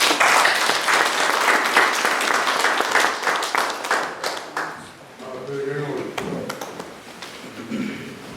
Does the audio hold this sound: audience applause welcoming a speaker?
yes